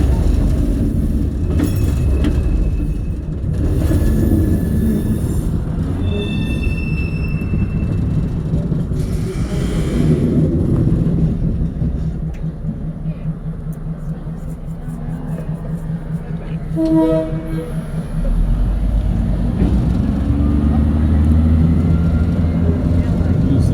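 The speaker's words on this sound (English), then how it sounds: "Oh, we got trains." Trains at the Galveston Train Museum rumble along on an open caboose ride, a loud, continuous low roar with rail clatter and a brief metallic squeal, easing for a moment before swelling again.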